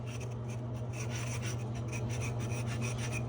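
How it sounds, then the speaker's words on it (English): Steady rasping scrub of a brush against a toilet bowl, a continuous rubbing with slight rhythmic pulses, close and fairly loud with no speech. "I've been working and scrubbing this thing forever."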